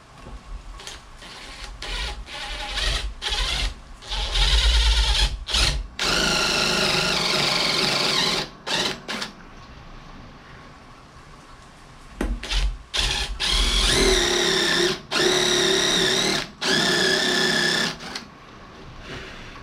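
A drill bores a pocket hole into wood without a jig. The motor whines close and loud in repeated bursts that start and stop abruptly, with a low grinding bite into the wood during the longer runs.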